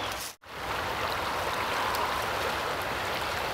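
Steady rushing river water flowing continuously, a broad even wash of sound with no voices.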